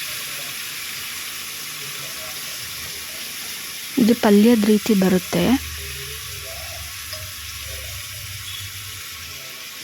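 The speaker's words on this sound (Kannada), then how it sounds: "ಈ ತುರಿದಿರೋ ಸೌತೆಕಾಯಿನ ಹಾಕ್ಕೊಳ್ಳೋಣ. ನೀರಿನ ಸಮೇತ ಹಾಕ್ತಾಯಿದ್ದೀನಿ." Grated cucumber tipped into a hot pan of tempering together with its water, giving a burst of sizzling and frying hiss lasting about a second and a half over quiet kitchen background, with a voice speaking briefly.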